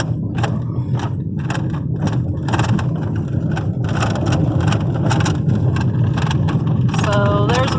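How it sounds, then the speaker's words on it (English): A car rolls into a windy Wyoming neighborhood, a loud continuous rumble of engine and tires with gusting wind noise and occasional knocks and rattles, plus a brief tonal squeak near the end. "we're driving into the neighborhood here"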